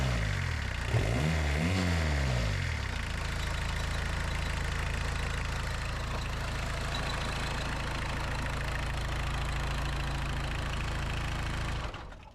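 A Suzuki Samurai fitted with a 1.6 turbo diesel engine, newly installed fuel tank and injection pump, idles with a steady low knocking rumble that runs close and loud throughout and cuts off at the end.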